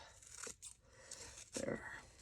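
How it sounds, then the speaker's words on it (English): Scissors snipping the ragged edge off a book page during a gesso craft session, a few quiet crisp cuts and paper rustles at close range, with a voice faintly in the background. "Now we need to do a little snipping."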